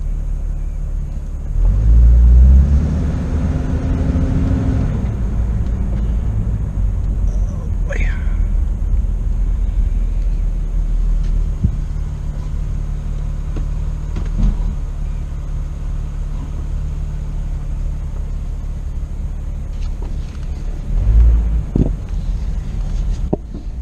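A Jeep Cherokee XJ 4x4 backs up slowly, its engine rumbling low and steady with a rising whine as it pulls away, wind noise and occasional clunks underneath, while a person talks throughout.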